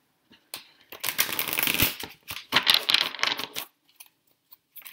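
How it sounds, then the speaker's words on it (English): Large Doreen Virtue Fairy Tarot cards being shuffled in rapid riffling bursts, close up, with brief pauses between shuffles and no talking. "I'm shuffling. And these cards are really big, so they're hard to shuffle."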